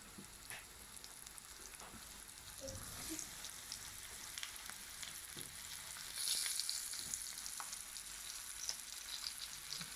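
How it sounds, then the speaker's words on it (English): Floured sardines fry in hot oil in a pan, giving a steady, crackling sizzle with scattered pops that swells a little partway through, with no talking. "So I'm just going to let that fry for about 2 minutes."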